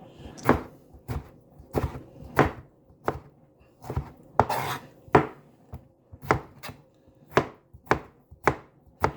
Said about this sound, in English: same thing, just kind of slice them nice